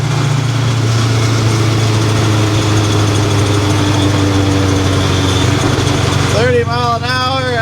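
A custom Ford cabover truck engine runs steadily in fifth gear at about 1400 rpm, a loud, even low drone throughout, and a voice joins near the end.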